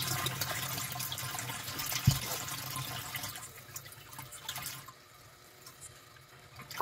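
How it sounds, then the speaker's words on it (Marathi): A thin trickle of water runs from a household tap with weak supply, a steady close hiss that fades and thins out partway through, with a brief knock early on. "खूप बारीक पाणी आहे"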